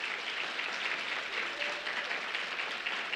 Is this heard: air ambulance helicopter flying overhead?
no